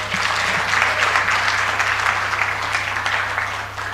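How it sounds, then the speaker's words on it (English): Audience applauding steadily at the official launch of a certified quality professional program, a dense sustained clapping from a large crowd that fades slightly toward the end, with no talk over it. "Wow, a big round of applause, ladies and gentlemen."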